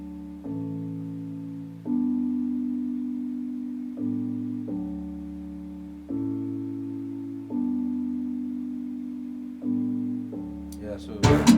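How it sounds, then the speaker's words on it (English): Electric piano chords from a beat, playing a steady repeating pattern of sustained chords that change every two bars, heard clearly and alone, with a brief burst of other sound at the very end. "the electric piano."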